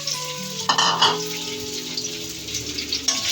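Hungarian sausage sautéing in about two tablespoons of hot oil in a hot pan, a steady close sizzle and crackle with stirring clatter and a few sharper pops, no talking.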